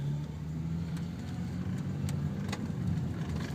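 A 2002 Dodge Intrepid's 2.7 liter V6 engine runs steadily, a low continuous hum and rumble close by with no talking over it.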